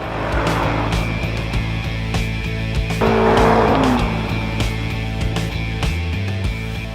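Jaguar XJR sports sedan engine roars under hard acceleration, gear changes breaking the steady drone, with a brief tire squeal; loud and continuous, no talking.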